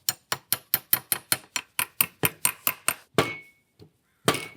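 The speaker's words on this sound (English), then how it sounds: "Got my hammer. And I'm going to put this blade in on those 2-inch marks." A hammer striking a blade into tape at 2-inch marks, about fourteen evenly spaced sharp taps close up, then a few slower, heavier knocks with brief pauses between.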